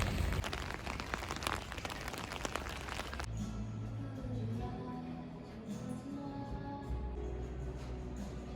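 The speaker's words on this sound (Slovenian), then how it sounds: "tale dež pa ni hec" Heavy rain hisses loudly for a few seconds, then drops to a softer steady patter on wet streets and puddles with low traffic rumble in the background.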